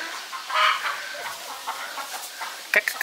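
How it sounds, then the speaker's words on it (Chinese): Chickens clucking in a village in Aswan, Egypt, a run of close, fairly loud clucks and squawks with short pauses and a sharper burst near the end. "有鸡还有羊。"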